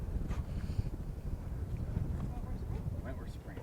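Steady low rumble of wind buffeting the microphone at a high mountain lookout around 11,500 feet on Mount Patterson, with faint voices murmuring underneath throughout.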